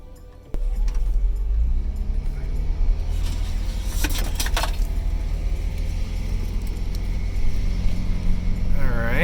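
A Toyota Prius after a hybrid battery rebuild starts off with a sudden jump to a steady low rumble and road noise heard from inside the car, with a few brief clicks and rattles partway through and no talk.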